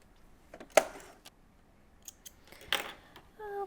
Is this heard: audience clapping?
no